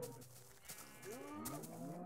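A Minecraft cow in a crowded pen lets out a single low moo, close and clear over faint game background noise.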